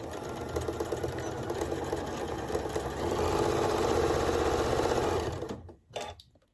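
A sewing machine stitches elastic onto a homemade fabric face mask, running as a steady close mechanical whir and rapid needle patter for over five seconds, growing slightly louder midway before stopping abruptly with a brief final burst.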